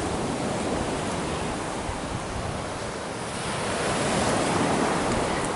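Caribbean Sea waves wash steadily onto a Jamaican beach in front of a beachfront house, a continuous broadband roar of surf that swells slightly toward the end, with some wind mixed in and no voices.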